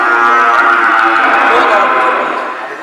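A cow moos at a Shiva temple, one long, loud, close lowing call that fades toward the end.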